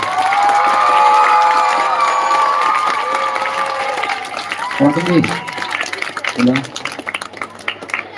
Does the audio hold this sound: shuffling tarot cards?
no